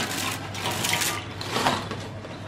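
Dry semolina pasta poured into a pot in a home kitchen, giving a short run of scattered, brittle rattling and clinking at close range with no talk.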